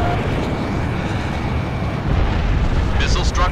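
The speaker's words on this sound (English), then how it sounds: "Missile struck target." A missile explosion hits its target in the Ace Combat 6 video game, heard as a sustained, roaring blast under jet engine noise. The roar swells slightly partway through.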